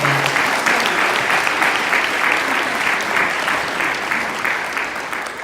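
An audience at a community event breaks into sustained, dense applause, many hands clapping at once and holding steady before fading slightly at the end.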